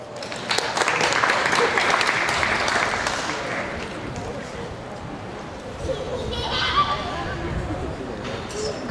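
Crowd applause for the winners at the Ontario Summer Show Jersey heifer class, loud and dense at first, then thinning out over a few seconds, with voices in the background.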